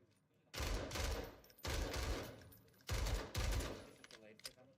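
Video game gunfire sounds in several loud bursts of rapid shots, each lasting about a second with short gaps between them, with no voice heard.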